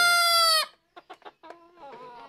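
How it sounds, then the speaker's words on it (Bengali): Hens clucking nearby: a loud, sustained rooster-like crow first, then a quick run of short, sharp clucks and a drawn-out, wavering cackle. "ডিম পাড়া মুরগিটা আলাদা করা লাগবে।"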